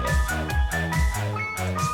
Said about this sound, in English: Ice Cream Truck remix